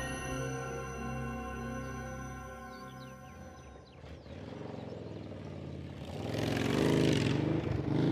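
A motorcycle ride, engine humming with steady harmonic tones that slide and fade, then a louder rough rush of engine and wind noise toward the end.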